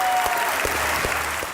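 A live audience on a Pakistani cricket comedy show applauds steadily for a visiting batsman, producing a dense, even wash of clapping that holds throughout without pause.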